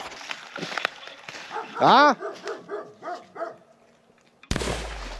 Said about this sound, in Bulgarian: Кучетата стигнаха до нас от началото на острова.